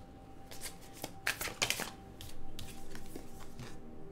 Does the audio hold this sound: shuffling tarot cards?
yes